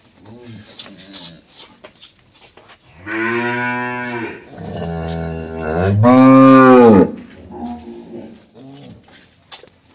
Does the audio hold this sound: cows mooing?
yes